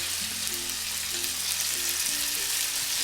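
Rabbit loin, lightly peppered, sizzles steadily in a hot pan, a continuous close frying hiss with no voices.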